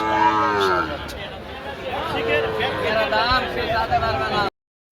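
At a cattle market, Sahiwal bull calves moo in long, loud, drawn-out calls close by, with a general crowd murmur underneath and voices talking.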